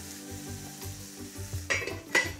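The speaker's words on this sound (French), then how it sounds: "Et on peut maintenant déglacer avec le vin blanc." Shallots and lemons in a pan being deglazed with white wine for a sole and artichoke fricassee, a soft low sizzle with a few sharp bubbling hisses and a metallic clink near the end, close, no speech.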